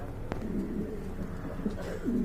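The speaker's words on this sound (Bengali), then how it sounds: "এখানে দেখতে পাচ্ছেন আরেক জোড়া মুন্ডিয়ান কবুতর রয়েছে" A pair of Mundian pigeons coo in low, rolling repeated calls nearby, with a sharp click early on and a steady murmur of other birds behind.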